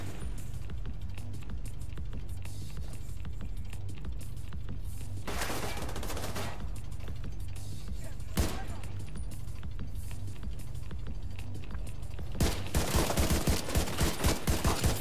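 Semi-automatic rifle fire in the shooter game Division 2 crackles over a continuous game soundscape, ending in a run of rapid, sharp shots.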